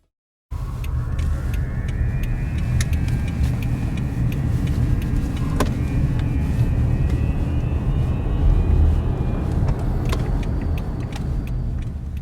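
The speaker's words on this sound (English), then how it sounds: "You can just hear the high-pitched whine over the road noise." Tesla drive unit with worn bearings giving a thin, high-pitched whine that drifts in pitch above loud, constant road noise inside the moving car, with occasional small rattles and clicks and no talking.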